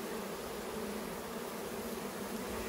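A mass of bees buzzes continuously and close while being gently scraped off frames of winter honey during a harvest, a thick even drone with no pauses.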